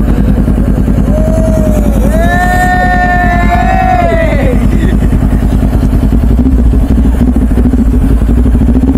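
A Kawasaki Ninja 400cc twin-cylinder motorcycle runs loudly and steadily nearby on a test drive, its engine chug constant throughout, with a few revving tones rising partway through.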